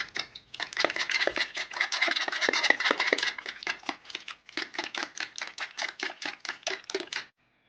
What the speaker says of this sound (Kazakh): Алдымен ыдысқа 250 мл салқын су құйып, артынша 2 жұмыртқа мен 1 шай қасық тұз қосып, жақсылап барлығын араластырып аламыз.